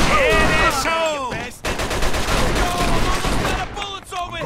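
Dense gunfire and bursts of automatic fire from the Mafia 2 video game, loud and sustained, with shouted voices near the start and end.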